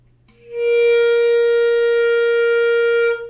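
A single sustained high clarinet note, steady and clear, held for about three seconds with no talking.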